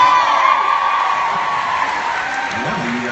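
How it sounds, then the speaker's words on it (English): A big crowd of fans at Minncon 2016, a fan convention, cheering and whooping loudly and continuously in a large hall, a broad roar of many voices with scattered shouts rising out of it. "I love that you guys all cheer"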